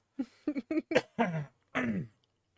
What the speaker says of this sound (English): the cough is still kicking around